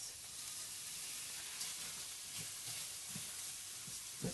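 Shallots and Arborio rice sizzling in a hot pan, a soft, steady frying hiss with a few faint clinks and stirring taps, quiet and close.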